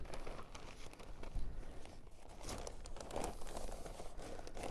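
A plastic bag crinkles and rustles steadily while being handled during grafting in rain, used to cover and tie over a fresh graft, close and continuous for several seconds with no talk.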